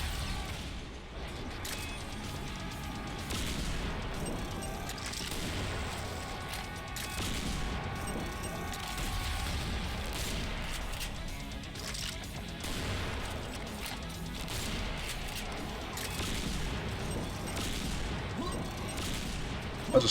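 Steady gunfire and mechanical combat noise in Serious Sam Fusion, a continuous fusillade of shots at moderate distance sustained over twenty seconds with no clear pauses.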